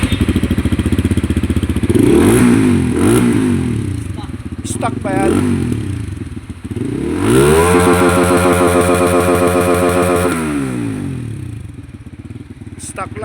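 A Rusi Flame 150x motorcycle engine runs close by and is revved several times, rising and falling in pitch with a rattly exhaust, while people talk over it.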